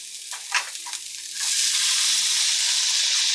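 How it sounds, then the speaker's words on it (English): Garlic, ginger and onion are tossed into a hot pan for a shrimp and tomato egg stir-fry: a few light clatters and taps, then a sudden loud, steady sizzle that continues to the end. "Before I put the tomatoes in, gonna put some garlic, ginger, and onion in the pan. Give it a quick little stir"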